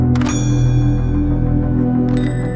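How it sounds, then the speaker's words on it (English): A dating app notification on a cracked smartphone sounds as two bright, short chimes, one near the start and one near the end, over a steady low hum. "The screen lit up with a new notification for a match nearby."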